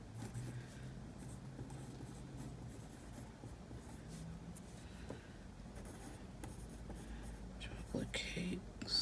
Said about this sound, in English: Should I write it in pencil first?